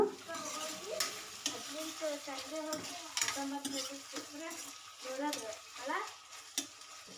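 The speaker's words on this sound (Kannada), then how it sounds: "ಕರಿಬೇವು ಹಾಕ್ಕೊಂಡಿದ್ದೀನಿ ಟೊಮೊಟೊ ಈರುಳ್ಳಿ ಸ್ವಲ್ಪ ಒಂದು ಎರಡು ಮೂರು ಹಸಿರು ಮೆಣಸಿನ್ಕಾಯಿ ಅಷ್ಟೇ ಹಾಕಿದ್ದೀನಿ ಅಚ್ಕಾರದ ಪುಡಿ ಹಾಕೋಣ ಅಂತ ಇದಿಷ್ಟು ಫ್ರೈ ಮಾಡ್ಕೊಳ್ಳೋಣ" Tomato, onion, green chillies and curry leaves sizzle in a home-kitchen pan, with repeated scraping and stirring strokes from a spoon under someone talking nearby.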